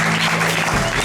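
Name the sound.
audience applause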